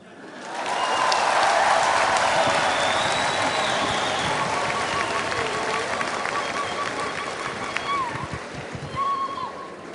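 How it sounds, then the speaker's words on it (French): An audience at a Rwandan diaspora gathering bursts into loud, sustained applause that swells in the first second and holds as a dense clapping roar, with scattered whistles and cheers on top. "je demande pas seulement un applaudissement, mais un applaudissement infernal."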